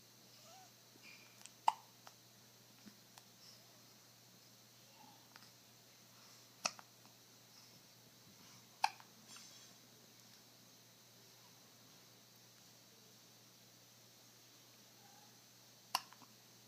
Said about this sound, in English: Who's got the hiccups?